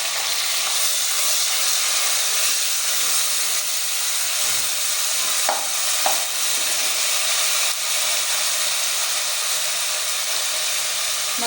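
Tomatoes hitting oil with light golden-brown fried onions for a potato masala gravy, giving a loud, steady hiss and sizzle that runs throughout with a few faint clinks.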